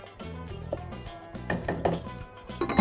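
A spoon clinks and scrapes against a pot as rice is stirred into a dish, giving a run of close, irregular metallic taps and knocks that grow busier toward the end.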